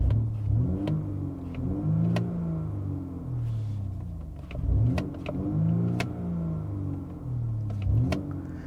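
Four-cylinder engine of a 2020 BMW M235i Gran Coupe revving repeatedly, with rising and falling pitch sweeps in several loud bursts over a steady rumble, heard from inside the car.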